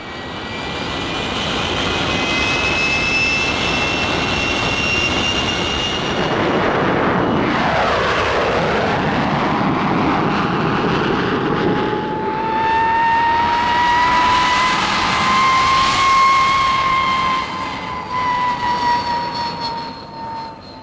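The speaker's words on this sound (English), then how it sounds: "And the P-1067, the fastest fighter flying today." A Hawker P.1067 jet fighter from 1951 RAF footage roars overhead loud and close, its jet whine rising and falling as it passes, then building again with a steady high whistle.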